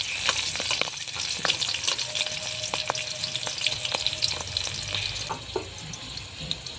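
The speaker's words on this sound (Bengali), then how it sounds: "কাঁচা লঙ্কা হালকা করে একটু ভেজে নেব।" Crushed garlic and green chillies fry in hot oil with a steady crackling sizzle, dotted with quick pops and spatula scrapes, close and moderately loud with no talking.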